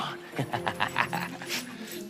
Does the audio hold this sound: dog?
yes